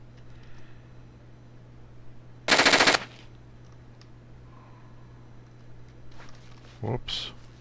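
A single short burst of automatic gunfire cracks loudly in the Black Bag video game, followed by a brief reload clatter over a steady low hum.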